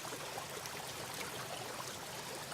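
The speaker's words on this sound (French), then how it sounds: "C'est ce qui produit ce son de l'eau qui tombe sur les pierres." Water tumbling over stones through a series of small garden cascades and weirs along a stream in a city garden, a steady, even rushing splash that holds constant throughout with no voices.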